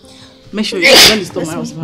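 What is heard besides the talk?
sneeze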